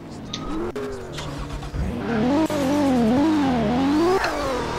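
A car drifting in a police roleplay video game, its engine revving steadily with rising and falling pitch sweeps, loud and close, with a brief tyre skid and no talking.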